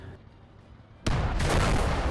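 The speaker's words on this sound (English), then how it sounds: "Big explosion coming." A satchel charge blast destroys a German tank in the World War II game Gates of Hell: Ostfront. A sudden loud, broad boom erupts after a second of quiet rumble and roars on without fading.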